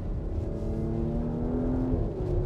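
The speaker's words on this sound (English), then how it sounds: "now we've got that exhaust note going." A Porsche Macan GTS's V6 exhaust note rises in a smooth, rasping climb of rising pitch, heard from close by for a couple of seconds.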